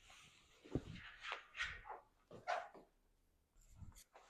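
A pet dog barking indoors with a few sharp, fairly close woofs spaced across a few seconds, with brief quieter gaps between them.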